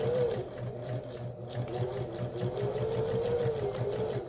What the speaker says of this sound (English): So the machine, and I have it on a straight stitch.